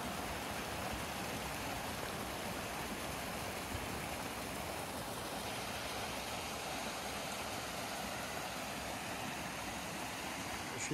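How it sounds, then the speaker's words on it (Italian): Mountain stream flowing at an alpine pasture, a steady broadband rush of water that holds evenly throughout, moderately distant and with no voices over it. "Ruscello da presepe."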